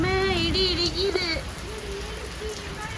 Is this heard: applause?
no